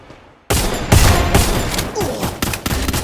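Rapid bursts of gunfire from the video game Free Fire, loud repeated shots in several clusters close together across the whole stretch.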